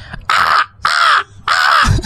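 A human voice imitates a crow cawing, three loud harsh caws in a row with short gaps, close and clear.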